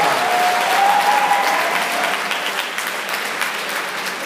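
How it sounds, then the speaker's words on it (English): Applause from a school audience fills the space, steady and dense throughout, with a faint whistle-like tone early on and no speech over it. "It might be the only time all year you get applause"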